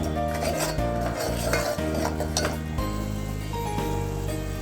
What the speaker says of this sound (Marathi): हे वाटण व्यवस्थित परतून द्यायचं आहे छान तेल सुटेपर्यंत वाटण परतायचं आहे